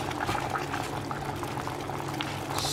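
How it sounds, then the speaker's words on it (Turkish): Water simmering with cinnamon sticks and cloves in a pot, a steady close bubbling hiss that stays even throughout with no voices. "Biraz daha kaynamasını istiyorum ki tarçınla karanfilin rengi çıksın ortaya biraz."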